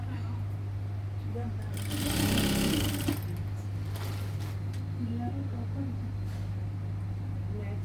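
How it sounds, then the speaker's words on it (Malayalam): Sewing machine stitching a churidar slit, a close, steady mechanical whir with a constant low hum throughout, a brief louder burst partway, and no voices. "ഇട്ടിട്ട് ഇങ്ങനെ സ്റ്റിച്ച് ചെയ്യും"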